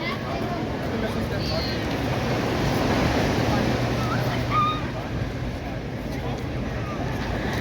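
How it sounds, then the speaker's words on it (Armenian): Rough sea waves wash onto the shore in a continuous loud roar, blended with wind buffeting the microphone and a faint murmur of distant people. "Ծովն էլ այսօր շատ ալիքոտ է։"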